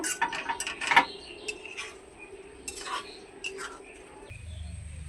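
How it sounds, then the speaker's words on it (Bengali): Fried potato and cauliflower stirred into spices in a pan, with a spoon making scattered clinks and scraping taps against the metal, then a low sizzle near the end, with no talk. "আর ভেজে রাখা আলু ফুলকপিগুলোকে এখন মশলার উপরে আমি দিয়ে দিচ্ছি। মশলার সঙ্গে নেড়ে চেড়ে নেব।"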